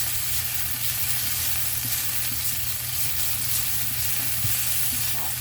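Korean-style thick glass noodles stir-fried in a hot pan, a constant close sizzle with scraping of the utensil and soft tossing sounds, steady and loud with no voices.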